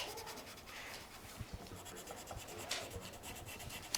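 A pencil drawing a thick line on paper during a math lesson on logarithmic functions, giving steady scratchy strokes that repeat closely and stay fairly quiet, with no talk over them.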